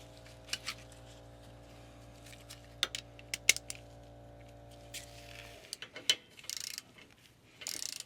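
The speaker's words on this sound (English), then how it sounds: "So we can put our drain plug back in, get that tightened back on there." A drain plug is tightened back into an Onan 4000 MicroQuiet generator with a run of sharp, close ratcheting clicks and taps over a steady low hum that cuts out partway through.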